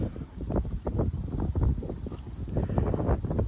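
Gusty wind buffets the microphone in low rumbling bursts, rising and falling unevenly, with faint water movement underneath, at a fishing spot.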